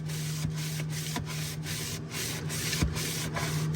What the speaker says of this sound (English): Let's see if I kind of push the sandpapery side into the crack.